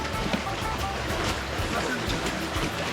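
Rushing river water surrounds a kayak paddled on the Upper Kachura in Skardu, a steady broadband wash of flowing water and wind buffeting the microphone, continuous and fairly loud throughout.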